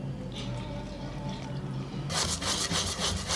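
Crepe batter of eggs, milk and flour being whisked in a bowl: faint rubbing and soft sloshing at first, then rapid, louder rhythmic whisk strokes clicking against the bowl for the last second or so.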